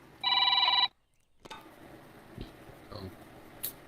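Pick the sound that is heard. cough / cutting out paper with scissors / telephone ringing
telephone ringing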